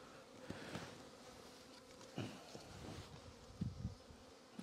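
Honeybees humming around an opened hive in cold weather as a super is added, a faint steady buzz with a few brief nearby knocks and handling sounds.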